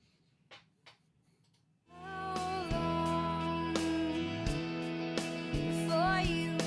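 A song plays at a steady level after a brief quiet lead-in, with sustained tonal instruments and regular percussive hits, with no talking over it.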